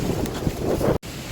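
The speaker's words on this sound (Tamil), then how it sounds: "காற்று எப்படி அடிக்குது." Wind blows steadily during an approaching rainstorm, a broad rushing noise with gusty swells that cuts out abruptly for a moment before resuming more softly.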